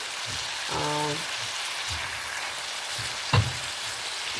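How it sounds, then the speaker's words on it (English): Broccoli and other vegetables sizzle steadily in a hot pan for beef and broccoli, a continuous frying hiss with a few faint clinks of stirring. "It's a couple of minutes to stir fry your vegetables."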